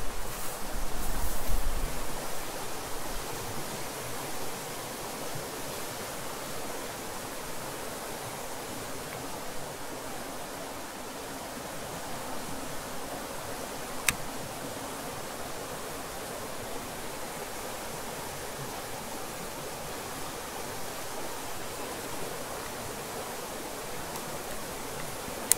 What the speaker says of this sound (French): Ah oui, là c'est le ruisseau. Avec la petite cascade